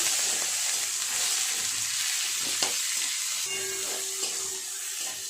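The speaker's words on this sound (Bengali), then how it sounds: "পেঁয়াজটা ততক্ষণ ভাজা হোক" Chopped onions fry with cinnamon, clove and cardamom for a chana paneer, a constant near sizzle and hiss with occasional stirring taps and no talk.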